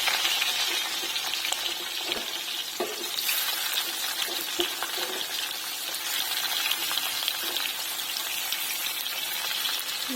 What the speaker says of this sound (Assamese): ভাজি ল'ম পিঁয়াজখিনি।